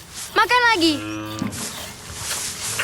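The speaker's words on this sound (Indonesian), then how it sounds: "Nah, makan yang banyak ya sapi." A cow gives one drawn-out moo with a rising then falling pitch, close by, followed by quieter background noise.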